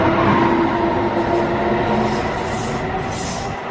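Rumbling rail noise with a steady low hum as an Amtrak train departs New Brunswick station, New Jersey, gradually fading slightly toward the end.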